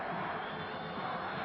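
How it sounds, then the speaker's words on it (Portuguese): Fluminense supporters in a stadium at a 1984 match against Corinthians at Morumbi, a dense, steady crowd roar of chanting that fills the whole short stretch. "Torcida do Fluminense grita Parreira, Parreira."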